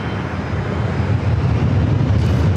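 SkyWest Embraer E-Jet airliner on its takeoff roll from runway 27 at San Diego airport, a steady loud broadband engine roar that holds constant and slightly swells over a few seconds, with no talk.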